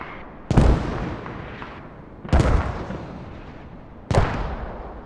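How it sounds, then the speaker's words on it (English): Mortar rounds in the video game Squad land in three heavy booming impacts spaced about two seconds apart, each followed by a long rumbling decay, loud and without talk. "Very fast reactive mortars here from CoRe."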